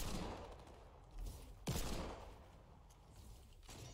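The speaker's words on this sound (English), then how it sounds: "I hear shooting. And if someone has a minigun, sounds like one, sort of." Distant minigun fire in the video game Fortnite, a faint, muffled rattle of rapid shots with one sharper burst, heard alone at low volume.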